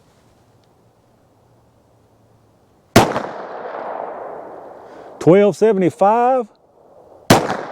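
A single sharp, loud .380 +P pistol shot from an Underwood Xtreme Defender load fired into ballistic gel cracks out of near silence, followed by spoken words and a second abrupt shot at the end.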